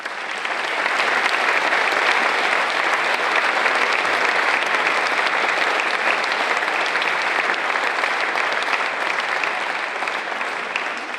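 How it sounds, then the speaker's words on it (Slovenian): Sustained applause from an audience at a Slovenian charity event, a dense, steady roar of clapping hands lasting throughout with no pauses. "Dajmo aplavz."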